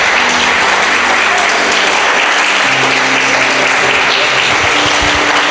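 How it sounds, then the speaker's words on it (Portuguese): A church congregation applauds steadily, dense continuous clapping from many hands filling the whole stretch at high volume. "Pode aplaudir ao Senhor."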